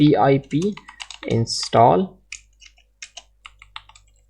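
Keys on a computer keyboard clatter in a quick burst of clicks as the command pip install PyAutoGUI is typed for a Python module, following a stretch of close speech.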